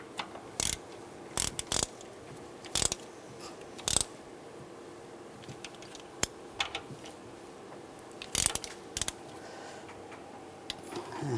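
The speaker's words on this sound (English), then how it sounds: "And tighten these bolts down." A ratchet tightens bolts on the EGR valve of a 1999-2006 Chevrolet Silverado 1500, giving quick metallic clicking bursts in short irregular runs over quiet workshop background.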